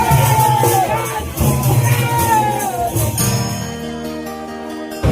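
A Gaura-Gauri festival wedding procession crowds a narrow village lane in Tilda, with a dense, loud mass of mixed voices, occasional shouts and whoops close by, thinning slightly toward the end.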